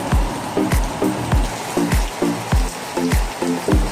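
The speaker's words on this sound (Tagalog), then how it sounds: "medyo malakas ang ulan" Heavy rain falling on a roadside corner, a steady wash of noise broken by repeated low regular thumps about every half second, close and fairly loud with no talk.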